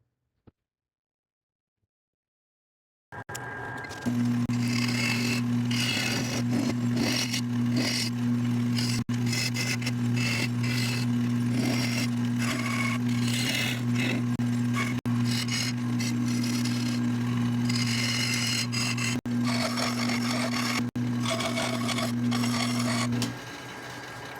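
A steady, continuous lathe hum with a scratchy rubbing texture of acacia wood being sanded layered over it, running evenly for about twenty seconds after a short silence.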